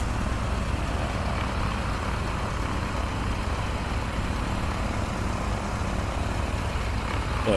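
A Piper 28 Dakota light aircraft's engine in Microsoft Flight Simulator holds a steady, loud droning hum with a low rumble throughout, the throttle coming up on approach with flaps extended.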